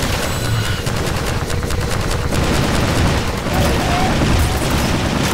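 Gunfire in Half-Life 2 Episode 2, a sustained loud barrage of rapid shots and booms that runs continuously throughout, with some talk mixed underneath.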